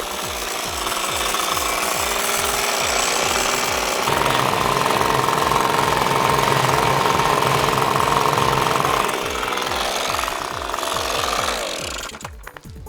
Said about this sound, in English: A blower on low.